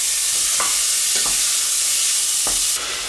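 Diced bacon frying in about one and a half tablespoons of hot rapeseed oil, a loud steady sizzle with a few soft stirring scrapes, no talk.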